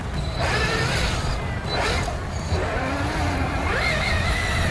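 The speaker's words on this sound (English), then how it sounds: "I want you guys to see how well this thing actually goes in reverse." A remote-control car fitted with a saw blade weapon drives in reverse, a steady close motor whine and gear buzz with shifting pitch as it changes speed, running continuously without talk.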